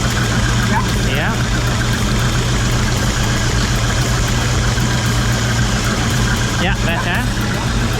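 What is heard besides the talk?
MerCruiser boat engine idling and revving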